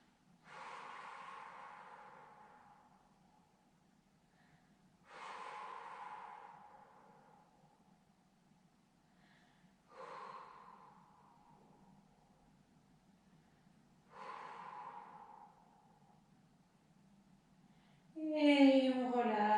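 Slow, deep breaths during a Pilates exercise, heard as four soft, evenly spaced exhalations about five seconds apart, close to the microphone with quiet gaps between them. A sharper, louder sound cuts in at the very end.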